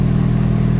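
A Ferrari engine revs irregularly with a faulty, uneven note, a close, loud mechanical hum pulsing in a brief burst with no talk.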